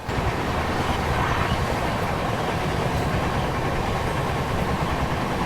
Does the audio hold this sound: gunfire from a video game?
no